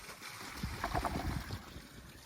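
A Toto Drake toilet flushes during a clog test, a short, close, rushing gurgle of water that swells and fades within a couple of seconds.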